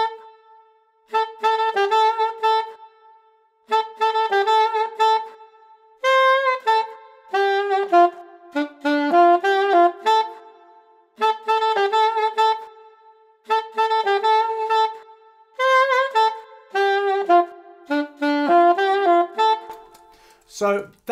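An alto saxophone plays a tune slowly. Clear sustained notes come in short phrases separated by brief pauses, played alone without accompaniment.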